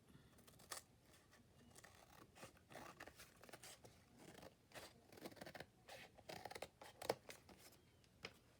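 Scissors trim paper for a junk journal cover, making faint, repeated snipping and scraping cuts in an uneven rhythm at close range in a quiet room.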